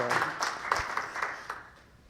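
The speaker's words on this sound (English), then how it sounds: "give some applause to welcome up Dr. Heiser" An audience at a lecture on Gnosticism applauds to welcome a speaker, with scattered, fairly close claps that form a loose rhythm and thin out toward the end.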